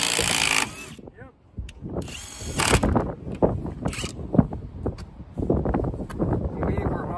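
A Hercules Ultra Torque Gen2 cordless impact wrench tightening a fastener, loud close bursts of rapid hammering and motor whine with pauses between, and someone talking over it.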